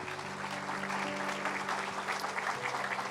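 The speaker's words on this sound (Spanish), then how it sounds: "Dale un aplauso al Señor, por favor." A congregation claps for the Lord during a Spanish-language church sermon, a continuous round of applause at moderate distance lasting throughout.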